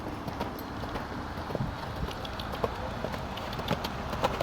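A horse cantering, hooves clip-clopping in a steady rolling rhythm at moderate distance over soft ground, with faint background noise.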